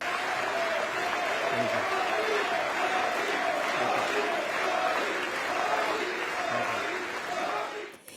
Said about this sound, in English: It was received with 15 standing ovations and applauded on 79 occasions in the Congress Hall